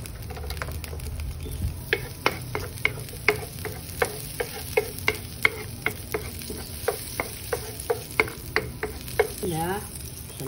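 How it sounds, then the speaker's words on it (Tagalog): Garlic sautés in melted butter in a pan with a steady sizzle, while a utensil taps and scrapes the pan in a regular rhythm, about one stroke per half second, close and clear. "And then saute the garlic."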